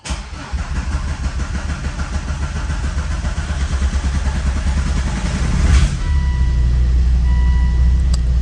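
A Volvo V70 2.4 D5 diesel struggling to start, with intake pipes not fitted properly: a long, labouring crank that rises and catches, then settles into a close, steady idle.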